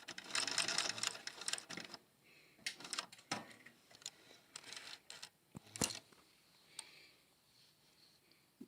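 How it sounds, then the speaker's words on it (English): A THOR GC-1341 industrial sewing machine runs in short stitching bursts, a fast mechanical chatter that starts and stops several times, close and fairly quiet, with a few sharp clicks between runs. "Hold both threads when you start, top and bottom thread, and you can continue your sewing operation."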